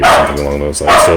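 A dog barks loudly indoors, two or three quick close barks overlapping a man's speech, the animal agitated and hyper after days of fireworks.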